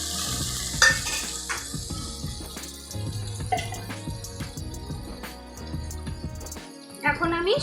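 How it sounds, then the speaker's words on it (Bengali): Spices frying and sizzling in a pan while being stirred, with scraping utensil taps and clinks over a steady sizzle, close up, while making hilsa fish head with taro leaves. "এখন আমি সব মশলাগুলো নেড়ে চেড়ে নেব।"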